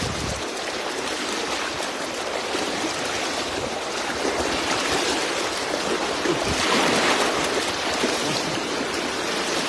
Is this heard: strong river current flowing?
yes